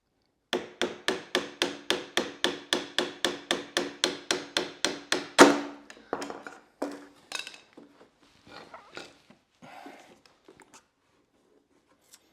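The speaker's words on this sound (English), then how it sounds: "now we'll hit that out the rest of the way with the screwdriver" A screwdriver is struck repeatedly with a hammer to drive a pin out of an R1 electric dirt bike part resting over wood. About twenty sharp, evenly spaced metallic taps build to one loud blow, followed by scattered lighter clinks that fade out.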